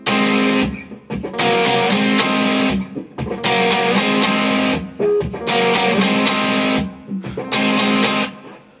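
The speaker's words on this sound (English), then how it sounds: "And then we get an overdubbed guitar," An overdubbed distorted electric guitar part for a song, loud and gritty with sustained chords broken by short gaps and choppy pauses.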